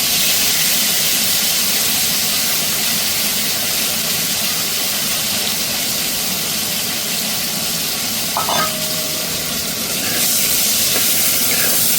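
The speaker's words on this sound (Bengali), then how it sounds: "বেগুনগুলো নুন হলুদ মাখিয়ে রেখে দিয়েছি সেগুলো এবার এর মধ্যে দিয়ে ভেজে নেব" Salted, turmeric-coated brinjal slices fry in hot oil with a steady, loud hiss and sizzle that runs unbroken from start to finish, with no voices.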